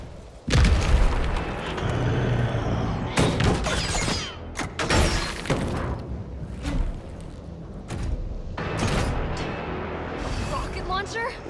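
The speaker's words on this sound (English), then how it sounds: "Rocket launcher? Really?" Rocket launcher blasts and booming explosions in Resident Evil 3 Remake, several heavy loud impacts with rumbling low-end tails over continuous game noise, with talk over it.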